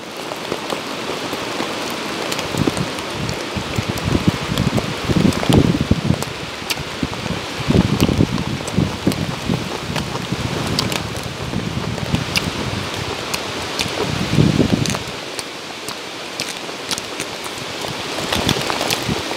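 Steady rain pattering on surfaces in the mountains during a late lunch outdoors, a dense continuous patter with occasional heavier drops and rustling, close and even throughout with no talk.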